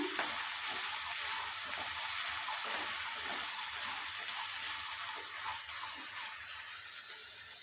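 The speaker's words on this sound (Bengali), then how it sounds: "লঙ্কা কুচিটা দেওয়ার পর ভালো করে আবারও নেড়ে ফেলে নিচ্ছে" Chopped green chillies sizzle in a frying pan while being stirred, a steady hiss of hot oil that holds through the whole stretch, quiet and close, with no talking.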